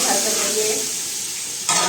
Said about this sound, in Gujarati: આપણે દાળનો સોય ભાતનો વઘાર કરીશું